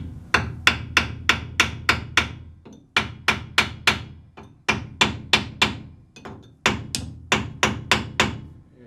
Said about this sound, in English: give it a couple more whacks just to make sure